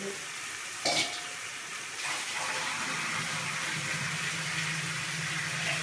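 Water pours into tomato pulav rice in a pot, a steady gushing sizzle that starts after a brief clink and runs on continuously, close and fairly loud.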